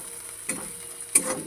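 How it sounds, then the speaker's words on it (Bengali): Onion, ginger, garlic and coriander are stirred in a hot wok, a soft steady sizzle broken by two scraping stirs of the spatula, quiet and close. "এখানে পেঁয়াজ, আদা, রসুন, ধনে দিয়ে এটাকে কষিয়ে নিলাম।"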